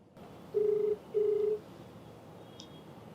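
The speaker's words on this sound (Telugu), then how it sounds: "మరి నెంబర్ ఇచ్చారు, కాల్ చేస్తానండి." A telephone call rings out on the line, two evenly spaced, steady ringback tones in a row, followed by quiet line hiss.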